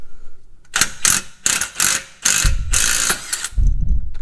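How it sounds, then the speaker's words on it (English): Impact wrench fitted with a 1-inch socket tightening a tie rod bolt on a 2011 Hyundai Elantra, delivering several loud, close bursts of rapid hammering separated by short pauses. "we're going to use the impact wrench with a 1-inch socket on the end of it in the tighten to tighten it"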